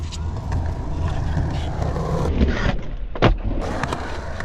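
Skateboard wheels roll loudly across concrete in a rolling, gritty hum during a roll-in over ramp coping, with a sharp clack near the end as the board drops over the edge.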